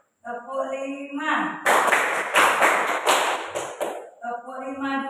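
A classroom group claps a five-beat rhythm, with a run of loud sharp clap bursts between a teacher's sung voice before and after.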